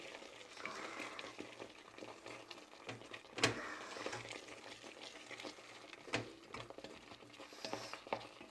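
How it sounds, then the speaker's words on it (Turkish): Semolina halva with walnuts being stirred in a pot, faint soft scraping and gentle patter with a few sharper clinks of the spoon against the pot. "Cevizimizi de şimdi koyuyorum içine. Onu da yine karıştırıyorum iyice."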